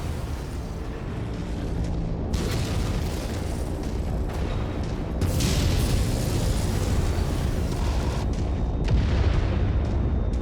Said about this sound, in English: Your kill is about to explode, Commander.